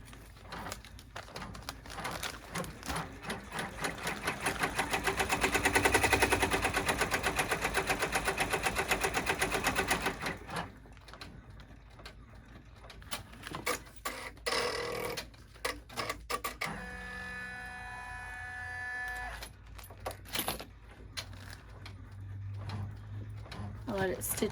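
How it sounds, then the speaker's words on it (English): A sewing machine stitches a star-spangled fabric clutch bag, running in steady rapid bursts that swell louder mid-stretch, then pauses amid handling clatter before a quieter run resumes, with a voice speaking at moments. "I'll let it stitch the whole thing there so you guys can see"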